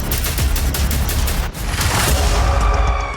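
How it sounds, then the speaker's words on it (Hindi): An Israeli strike in a forest area of south Lebanon is followed by a large explosion, heard as a loud, sustained roar of crackling blasts with a sharp break midway, then continuing rumble. "हमले के बाद बड़ा विस्फोट होता है।"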